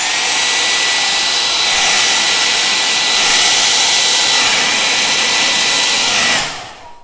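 A hair dryer blows steadily and loudly on wet paint for about six seconds, a constant close whooshing roar with a faint high whine, before switching off and winding down at the end.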